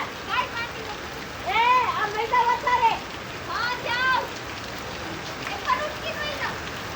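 Steady rain falling over a flooded village, an even wash of patter running throughout under several people talking.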